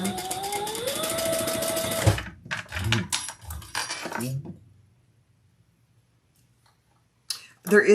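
A sewing machine stitches a short fabric strap in a steady fast whir for about two seconds, then gives way to short stop-start bursts, and a voice talks over it before it falls quiet.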